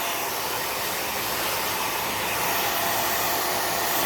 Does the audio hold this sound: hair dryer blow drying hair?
yes